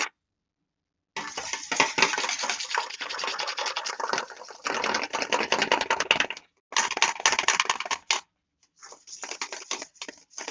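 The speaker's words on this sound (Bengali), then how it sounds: "এরকম একটা হুইস নিয়ে নেবেন এবং ডিমগুলোকে ফোম করে নেবেন" Eggs whisked into foam with a hand whisk for a plain cake, a rapid rattling of metal wires against the bowl in long bursts, broken by short pauses, close and clear with no voices.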